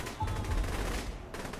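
Rapid gunfire from the video game Saints Row rattles in a steady dense stream of shots, loud and continuous, with a short tonal blip early on and no clear talk over it.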